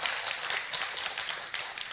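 An audience at an auditorium event applauds, a dense, steady wash of many hands clapping with no voices.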